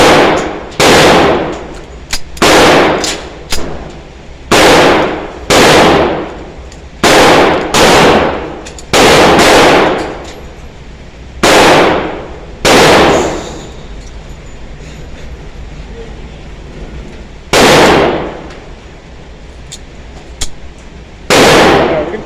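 Loud gunshots from a Beretta 1935 pistol, fired in uneven clusters with sharp reports and short gaps, several bursts in quick succession then sparser single shots, each ringing out briefly.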